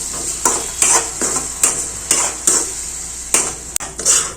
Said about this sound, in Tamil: அது வரைக்கும் இதை வந்து மிக்ஸ் பண்ணிக்கிறேன்